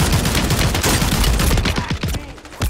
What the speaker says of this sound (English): Motherfucker's shooting me from somewhere.